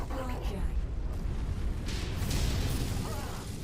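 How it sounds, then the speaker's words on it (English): Big explosions in Mechwarrior 5 as a production outpost is destroyed: heavy, continuous rumbling blasts filling the whole stretch, loud and broad, with voices talking over them. "Oh, there's some big explosions."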